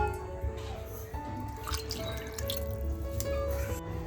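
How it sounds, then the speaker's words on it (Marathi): Water poured into a fish curry in a home kitchen, giving a soft, steady trickle with light drips throughout, close by, over a low background hum. "त्याच्यामुळे पाणी ॲड करून घ्यायचे."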